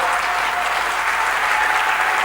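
A church congregation applauds the Lord during a sermon: loud, dense, continuous clapping that fills the whole stretch without a break, with no voices standing out.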